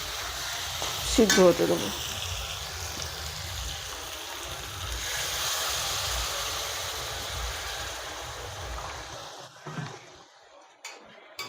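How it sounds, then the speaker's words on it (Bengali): Water is poured into a hot pan of soybean and potato curry, sparking a brief loud sizzle that settles into a steady simmering hiss, with a person speaking near the end. "এবার আমি একটু পানি দিয়ে আলুটা সিদ্ধ হতে দেবো"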